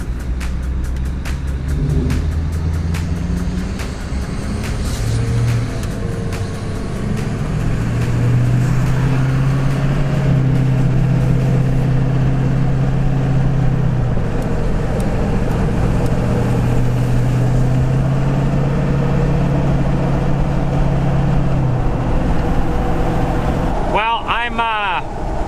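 A 1995 Ford F350 with a swapped LBZ Duramax diesel and solid front axle drives along, its steady engine drone and road rumble continuous throughout while someone talks over it.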